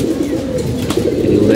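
Racing pigeons in a loft coo loudly and close by in a continuous stream of low, throaty calls.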